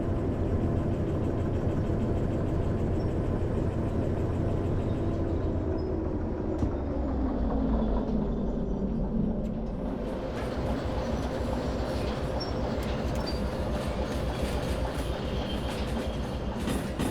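Train running on rails in Derail Valley, a steady loud rumble with rhythmic clatter of wheels throughout, shifting in pitch midway as the train moves on.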